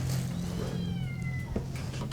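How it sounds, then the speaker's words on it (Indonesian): A cat trapped on the roof of a house in deep floodwater gives a drawn-out meow, fairly clear over a steady low rumble of motor and water. "Tim kita mencoba menyelamatkan beberapa kucing yang terjebak"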